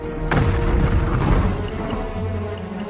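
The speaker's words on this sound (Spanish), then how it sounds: "3 enormes explosiones sacudieron la ciudadela a la vez." Powder mines detonating in tunnels beneath the walls of the Kazan fortress produce a massive deep boom with a sharp crack, then a long rumbling roar of collapsing masonry that slowly fades.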